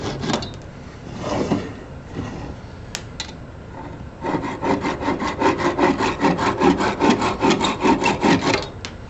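A blade saws through excess material on a junction box assembly near its brackets. Scattered scraping comes first, then a steady run of rhythmic back-and-forth sawing strokes, close and fairly loud.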